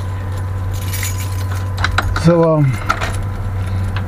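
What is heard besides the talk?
jangling bunch of keys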